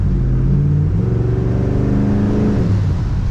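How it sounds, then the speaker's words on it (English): A deep 1967 Chevrolet Impala SS V8 engine revs up and settles, loud and close, rumbling idle between the throttle blips. "This car has a great sound."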